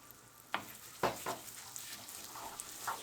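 Sesame seeds are stirred into melted sugar and oil, giving a soft sizzle broken by several scraping, stirring strokes that come in short irregular bursts.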